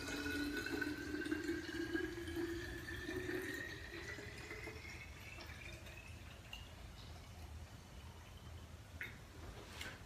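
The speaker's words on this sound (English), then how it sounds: "And then we're going to just fill it with water" Water pours steadily into a container to mix a master cleanse drink, a continuous rushing fill whose pitch rises as the vessel fills, fairly quiet and heard alone.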